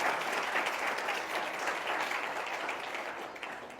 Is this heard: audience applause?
yes